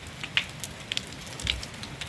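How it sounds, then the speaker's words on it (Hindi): Heavy rain pours down at midnight, hard enough to sound like hail: a constant broadband rushing hiss with scattered sharp drop impacts and taps, close and unbroken, with no voices. "रात के 12 बज रहे हैं और बारिश देखो कितनी तेज़ हो रही है"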